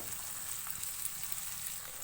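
Chopped tomato hits a pan of frying garlic and ginger for achari daal, giving a soft, steady, close sizzle with a faint crackle that continues evenly throughout.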